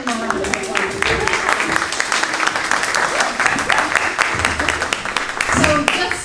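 Lively round of applause from an audience at a municipal affordable housing trust meeting, dense clapping filling the room throughout with a few voices mixed in.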